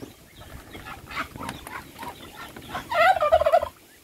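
A farm turkey kept with chickens and ducks gives a loud, rapid gobbling burst near the end, preceded by quieter clucks and poultry chatter nearby.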